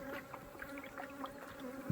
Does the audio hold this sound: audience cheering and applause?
no